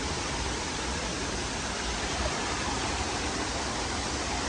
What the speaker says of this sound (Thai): น้ำตกถ้ำโสดา นี่นะครับ